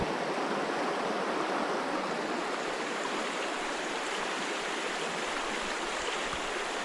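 Creek water rushes steadily over green, mossy, slippery rocks at OroGrande Creek, a loud continuous broadband roar heard close with no break or voices.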